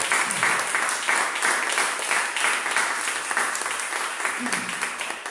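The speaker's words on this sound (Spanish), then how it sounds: "¿Cuánto le pueden dar un aplauso al Señor en esta mañana?" Church congregation clapping in applause during a Sunday morning service, a dense, steady wash of many hands sustained for several seconds, with voices calling out beneath it.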